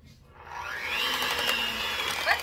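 Blender whirring through gluten-free protein bread batter, a steady motorized churn that ramps up after a brief quiet start and holds loud and continuous, alone with no talk.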